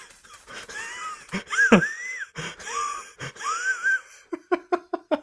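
A man hyperventilates, drawing loud wheezing, rasping breaths, then a rapid run of short sharp gasps near the end, close and alone without talk.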